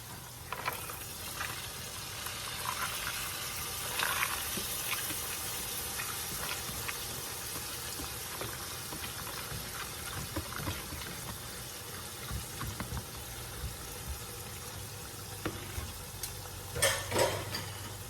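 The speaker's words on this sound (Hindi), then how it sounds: "अब मैं इसके अंदर ऐड कर रही हूँ दालें जो मैंने भिगो के रखी थी अपनी" Soaked lentils tipped into frying masala in a pot for beef haleem, then stirred, giving a steady wet sizzle with scraping and clinking of a spoon against the pan, close and continuous without talk.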